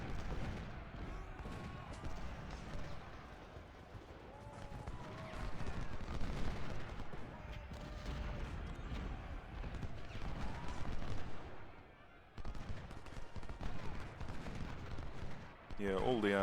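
Gunfire during a Civil War battle in the video game Ultimate General: Civil War, a steady crackle of rifle volleys and artillery under continuous battle noise, with a voice talking over it.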